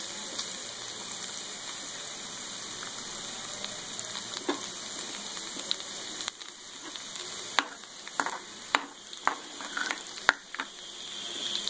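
Garlic and whole dried red chilies fry in hot oil for sarson ka saag tempering, a steady close sizzle with scattered sharp pops and crackles growing more frequent toward the end.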